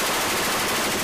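Machine gun fired from a CH-46E helicopter during a gunnery exercise, a dense continuous roar of rapid shots lasting the whole moment, loud and close with no talk.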